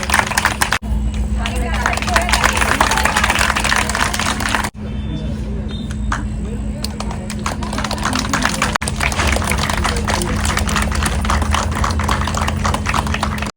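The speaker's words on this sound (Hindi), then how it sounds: "प्रथम के लिए ताली बजाएं" Office staff audience clapping at a Diwali celebration, a dense continuous roar of applause with crowd hubbub, steady and loud throughout with brief dips.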